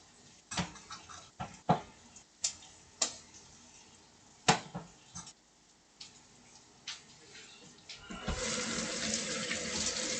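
At a kitchen sink during cleaning, irregular splashes and knocks sound at close range, then a tap is turned on and water runs steadily for the last couple of seconds.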